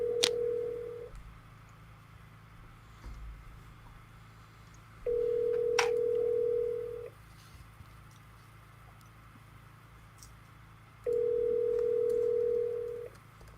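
An outgoing telephone call rings unanswered, with three long ringback tones separated by pauses of several seconds over a faint background hum.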